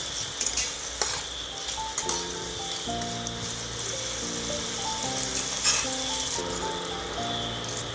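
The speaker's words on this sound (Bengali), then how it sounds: "তো আলুগুলো দেওয়ার পর এটাকে ভালো করে নেড়ে ভেজে নেব আলুটাকে" Small potato pieces being stirred and fried in a pan for spicy suji, a soft continuous sizzle with occasional spoon scrapes while a steady musical tone plays underneath.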